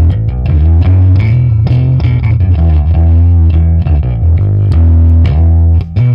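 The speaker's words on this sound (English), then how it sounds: "on the clean channel with the gain at noon, it's got some distortion." Bass guitar played through a Boss Katana 50 MKII amp on its clean channel with gain at noon, giving a thick, slightly distorted tone; a continuous melodic line of plucked notes rings loud and close with no talking.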